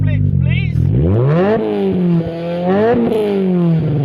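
Nissan S15 with a 350 bhp engine revving hard through its exhaust. Several loud, rising and falling rev sweeps with a crackle between them, heard close up.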